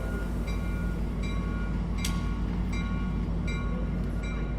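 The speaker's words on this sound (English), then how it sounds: "Doors are closing. And the train is about to set off for its next station." Coast Starlight passenger train setting off from a station toward Oakland, a steady low rumble with repeated faint metallic clicks and ticks at regular intervals, continuous and moderately quiet.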